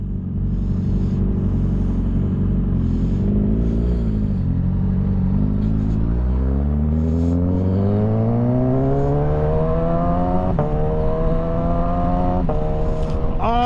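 A motorcycle engine revs hard and climbs in pitch through successive gear shifts, with clear drops at each change and a loud, steady roar close by.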